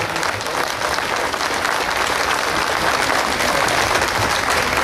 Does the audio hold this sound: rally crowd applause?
yes